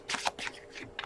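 A deck of cards being shuffled, with several quick riffling bursts that are soft and close, and no talking.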